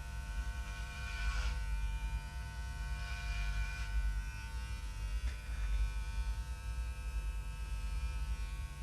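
Electric hair clippers cut dry hair during a home haircut, a steady close buzzing hum with slight swells as the blades pass through hair, with no speech.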